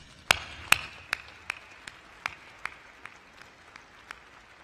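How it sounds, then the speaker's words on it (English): A handful of sharp, separate claps at a chancellor's installation ceremony ring out one after another, slowing and fading over a few seconds in a quiet, echoing space. "I'm going to applaud, and I want you to applaud."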